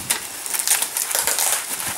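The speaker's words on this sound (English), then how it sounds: "we're gonna unwrap that" Plastic packaging around a Reach-iT Mini carbon fibre water-fed pole is unwrapped, giving close, loud crinkling and rustling for about two seconds.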